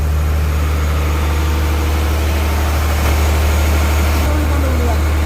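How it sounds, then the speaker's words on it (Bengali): A Chinese-made six-cylinder Weichai engine runs in a passenger launch's engine room, giving a loud, steady, low droning roar with a constant rumbling hum throughout. "আর এগুলো হলো উইচে ব্র্যান্ডের ইঞ্জিন চায়নার তৈরি আর সিলিন্ডার সংখ্যা হলো ছয় ছয়টি সিলিন্ডার"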